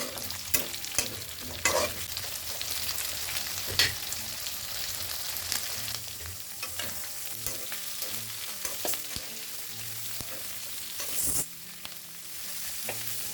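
Green chillies and onion fry in oil alongside chicken, giving a continuous close sizzle broken by repeated stirring scrapes and clatters of a spoon against the pan.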